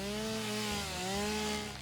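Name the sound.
chainsaw cutting a tree in video game Satisfactory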